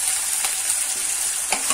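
Ginger garlic paste fries in a hot pan with a steady, close sizzle and a couple of faint scrapes of stirring, with no voices.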